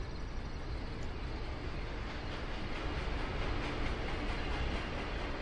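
A distant train rumbles in American Truck Simulator, a broad steady low roar with faint rhythmic clatter, continuous and unbroken with no talk.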